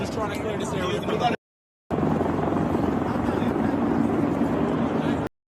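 Loud rotor noise from several helicopters thrums overhead in Manhattan, New York, after a shooting, cut briefly by a short silence before resuming, with indistinct voices beneath.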